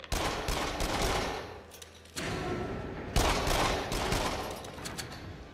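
Dense, sustained bursts of rapid gunfire in the VR shooter game Until Dawn: Rush of Blood, loud and continuous with a brief lull midway before the firing resumes.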